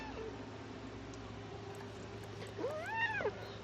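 A house cat gives one clear, drawn-out meow near the end, rising and then falling, fairly close but quiet over a steady indoor hum, after a stretch with only background noise.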